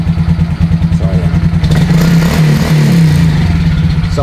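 A Suzuki Raider J FI motorcycle engine runs with no battery fitted, idling steadily with a loud, close, even mid-pitched thrum and a slight rough pulse throughout.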